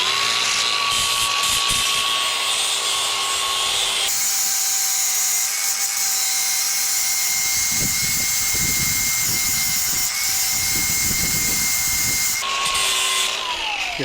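A power tool whines loudly and continuously, close up, while grinding a bevel into the metal of a cargo trailer axle. Its pitch shifts as it cuts and rough grinding noise runs through the middle stretch. No one talks.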